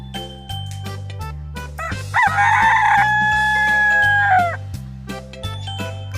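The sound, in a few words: hen clucking and rooster crowing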